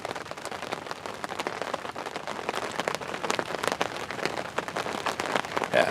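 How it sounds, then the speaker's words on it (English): Steady rain pattering on the surface at a riverbank during a spring carp fishing session, a dense continuous hiss with scattered sharper drop taps, growing slightly louder toward the end. "rain's getting heavier. It's supposed to get much heavier."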